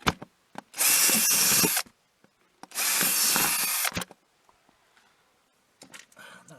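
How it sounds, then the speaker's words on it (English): A power drill bores drainage holes through a wooden garden planter in two sustained bursts of about a second each, loud and close, separated by a pause with small handling knocks. "So now I'm just drilling some holes"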